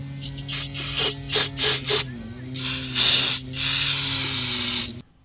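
Aerosol can of brake and parts cleaner sprayed during Nissan Sentra CVT transmission work: four short hissing bursts, then two longer loud blasts, close, over a steady low mechanical hum.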